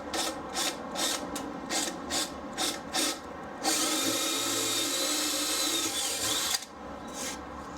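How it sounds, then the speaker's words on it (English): A power drill fitted with a 10mm bit bores holes in a wooden birdhouse panel, starting with a series of short rhythmic bursts, then a sustained louder whine for about three seconds before stopping. "first I'm going to drill a hole in the corner of each one"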